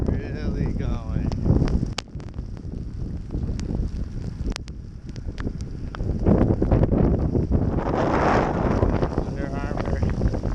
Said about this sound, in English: Wind is really blowing.